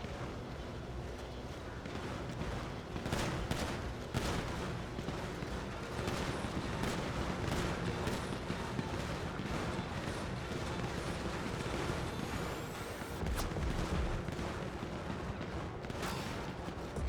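Dense, continuous video game gunfire from a shooter match, with repeated sharp shots and bursts over a busy, noisy background for the whole stretch; no voices stand out.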